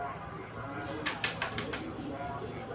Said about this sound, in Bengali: এই দেখেন রাতের অন্ধকারে কবুতরগুলো উড়ে আকাশে